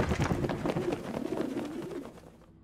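A pigeon coos during a scripted audio test in the video game Prey, soft rolling calls that repeat for a couple of seconds before trailing off into quiet.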